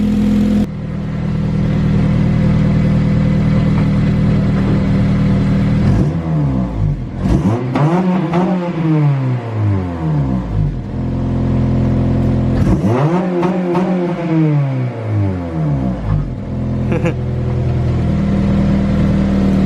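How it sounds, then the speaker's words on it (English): A 2009 Honda Civic Si engine revs repeatedly, rising and falling in loud sweeps over a steady idle, with a slight raspy exhaust edge from a small exhaust leak and no voices. "there's a little exhaust leak right now. That's why you can kind of hear it"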